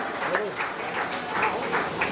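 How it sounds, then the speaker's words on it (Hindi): An audience at a birthday commemoration gathering for Jayaprakash Narayan applauding to welcome a guest; a steady wash of clapping continues beneath a voice speaking over it. "जोरदार तालियों से स्वागत करें।"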